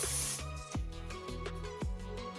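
A quick hiss of Ebin Wonder Lace Bond sprayed along a wig's lace hairline, a short burst near the start under louder music.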